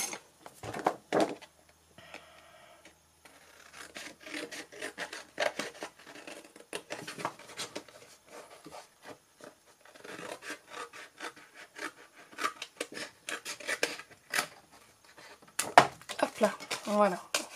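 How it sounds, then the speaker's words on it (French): Scissors cutting a sheet of A4 paper for a craft project: a series of close, crisp snips and rustling paper at an uneven rhythm, with occasional soft handling noises. "Donc là, je vais le faire au ciseau."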